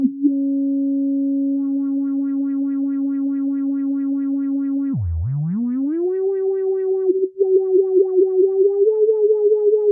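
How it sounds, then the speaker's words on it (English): Steady electronic sine tone from a PO 400 modular synth, later gaining pulsing overtones, then a sweeping dip and rise in pitch as the filter is moved, ending in a ticking, slightly wobbling tone. "Of course, it's a bit more boring to filter a sine wave like this."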